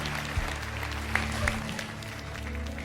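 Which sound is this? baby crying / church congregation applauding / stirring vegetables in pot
church congregation applauding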